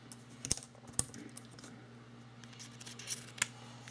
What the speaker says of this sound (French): Donc là, je vais remettre ma carte SIM d'activation.